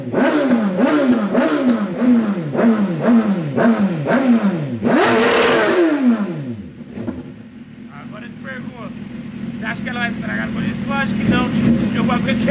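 A BMW S1000 motorcycle engine with 15,000 km revs repeatedly in quick rising-and-falling bursts, loud and close, then settles to a lower idle while people talk over it.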